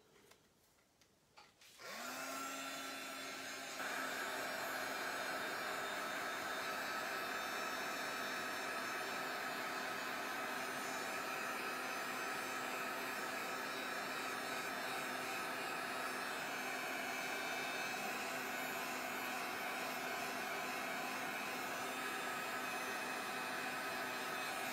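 A hair dryer dries stencil paste on a mixed media plaque, starting after a moment of quiet and then blowing with a steady, loud whirring hum and airy rush that continues unbroken.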